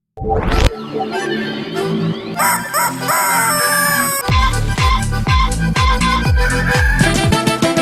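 A loud, close electronic rooster crow from a toy chicken, mixed with bright synthetic jingle tones, followed by a run of sharp repeated beeps.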